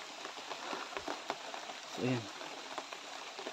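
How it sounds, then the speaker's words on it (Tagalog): Rain falls as a steady, even hiss throughout, with a brief voice heard partway through. "Lumalakas na yung ulan."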